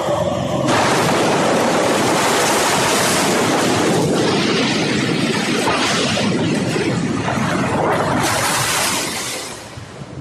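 Heavy storm seas surge and crash in a continuous loud roar, broad rushing surf with wind buffeting throughout, easing slightly at the very end.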